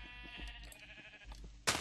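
Sheep in the video game Minecraft bleating in several short, separate calls at moderate volume, ending in a sudden loud burst of noise.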